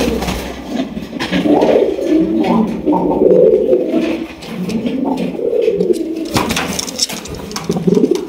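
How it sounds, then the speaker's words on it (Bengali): A pair of Gola pigeons coo repeatedly at close range, overlapping soft throaty rolling calls that continue almost without pause, with light rustling and a few sharp clicks near the end. "এখানে রয়েছে এক জোড়া গোল্লা কবুতর"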